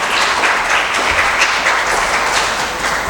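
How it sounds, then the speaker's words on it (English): An audience at a national seminar applauds a chef being called up on stage, with dense, steady clapping from many hands that fills the room at close range. "I would require you to give a huge round of applause"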